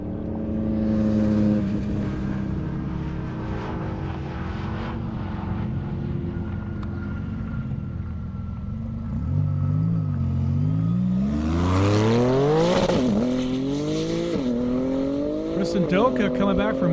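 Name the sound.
drag race car making a half-mile pass at airstrip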